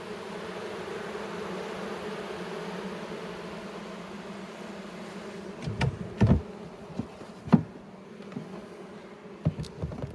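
Honey bees in an opened hive give off a loud, steady, dense buzz throughout, with a few sharper knocks and rustles near the end.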